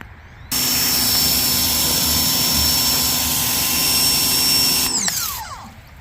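A pressure washer wets down a cheap project car, starting with a steady broadband spray hiss with a constant motor whine beneath it, loud and close, running unbroken for several seconds before cutting off near the end.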